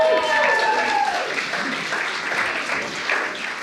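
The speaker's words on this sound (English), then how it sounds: "So a quick round of applause for yourselves." A conference audience at an education summit's opening plenary claps in a sustained round of applause, loud and dense at first and easing slightly, with a voice briefly audible at the start.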